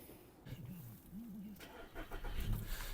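Volkswagen Golf Plus with a 1.6 MPI engine, a 2007 model at 150,000 km, running steadily at idle with a low, continuous hum and a slight rise in level toward the end, close by with no speech.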